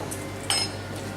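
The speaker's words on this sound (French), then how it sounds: "On va mettre un petit couvercle." A lid is set onto a cooking pot over high heat, giving a single soft metallic clink against a faint steady background hum.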